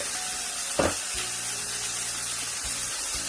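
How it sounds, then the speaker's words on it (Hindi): Chicken pepper steak sizzles steadily in a pan while being stirred, a continuous hiss with a few soft scraping knocks from the spoon. "और मैंने इसको स्टीर करना है और बस इसको हमने 3 से 4 मिनट स्टीर करना है।"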